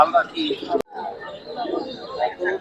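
Pigeons coo at the crowded Meradia pigeon market in Dhaka, soft repeated calls close by, mixed with people talking and a brief sharp knock.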